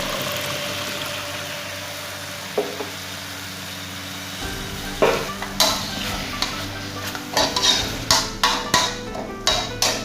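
Pork belly with shrimp paste stir-frying in a pan after a splash of water, first a steady sizzle, then a run of loud rhythmic spatula knocks and scrapes against the pan over the hiss.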